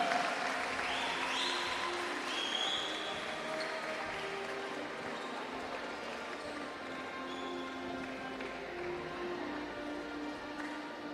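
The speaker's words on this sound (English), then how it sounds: "please give a warm round of applause to the captain of David Pires" A crowd at a men's A division basketball league awards ceremony applauds as the team captain is introduced, continuous clapping blended with venue noise and squeaks.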